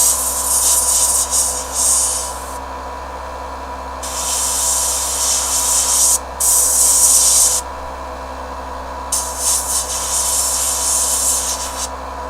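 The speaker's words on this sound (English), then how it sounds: "I'm mostly base coating with airbrush now to try to cut down on time" An airbrush sprays base coat paint onto miniatures in intermittent hissing bursts of a few seconds each, over a steady low hum of the compressor.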